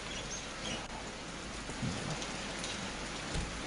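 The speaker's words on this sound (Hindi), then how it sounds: "ये बनिहाल की तस्वीरें हैं, बारिश इस इलाके के अंदर भी।" Heavy rain pouring down in Banihal during bad weather, a dense, steady hiss of drops on surfaces with faint low rumbles, continuous and fairly loud with no voices.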